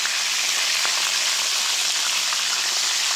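Fish sizzles and spits steadily in hot oil in a pan, a loud, dense crackling hiss that holds throughout with scattered sharper pops and no voices.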